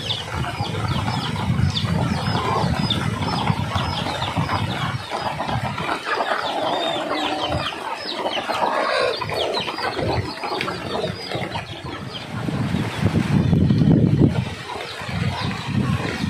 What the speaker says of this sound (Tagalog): Ayun no, isang grupo ng manok.